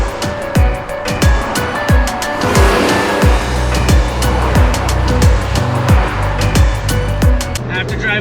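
A Ferrari 488 supercar drives fast through corners, its engine note steady and loud with repeated shifts and rising revs, tires and road noise filling the background.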